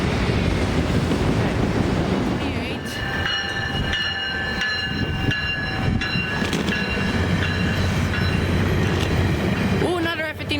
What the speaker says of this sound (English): Ooh, another F59 PH on this train.